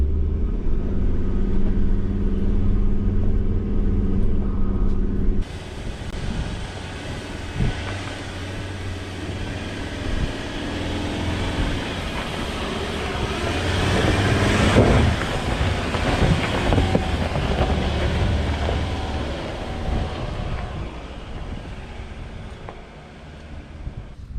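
A 4x4 climbs a steep hill track in Victoria's High Country near Lake Eildon on tyres let down to about 20 psi. The engine drones low and steady throughout, and heavy wind buffeting roars over it, loud and close.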